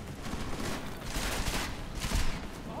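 Enemy gunfire in Deus Ex Mankind Divided, bursts of shots rattling in waves over continuous combat noise, moderately loud throughout with a heavier hit near the end.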